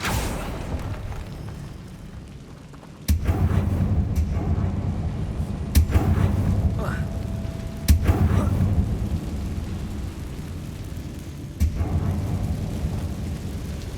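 Spell explosions from Bombarda and Confringo in the Hogwarts Legacy video game, several loud booming blasts at intervals over a steady rumbling game background.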